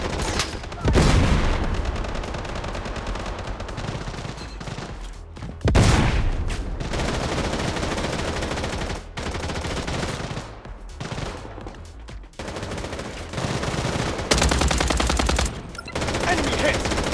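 Automatic gunfire in the shooter game Blood Strike, with loud sustained bursts and volleys that repeat in waves, broken by short gaps and layered over with clatter from the game.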